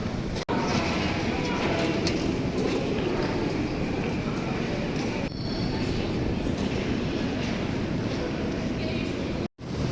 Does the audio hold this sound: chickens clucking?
no